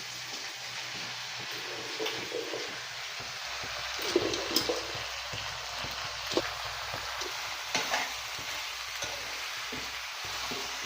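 Onions and broad beans fry for a curry, a steady close sizzle with occasional louder pops and stirring scrapes that run throughout.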